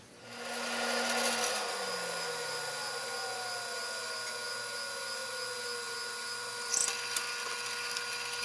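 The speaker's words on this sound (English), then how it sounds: "used a Forstner bit to drill the holes in each shelf" Power drill with a Forstner bit spins up and bores holes into wooden shelves, the motor pitch sagging gradually under load, with a short clatter near the end.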